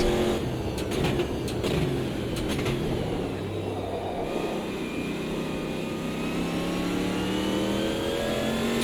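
A race car engine in the sim racing game Automobilista 2 revs hard and climbs through the gears, a loud, steady, close engine note with rising pitch and no talking.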